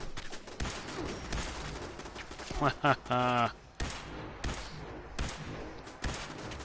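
Gunfire in the video game Fallout 76, a couple of shots among sharp percussive bursts, with a voice talking over the game sounds.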